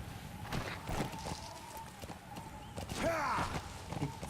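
D-Horse's hooves clip-clop along a road in the video game Metal Gear Solid V: The Phantom Pain, a steady run of close, regular hoofbeats with a brief tonal cry partway through.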